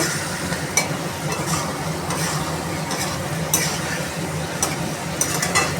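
Fish curry with ghee and garam masala stirred in a pan, a continuous soft sizzle broken by several sharp scrapes and clinks of the spoon against the metal, close and fairly loud.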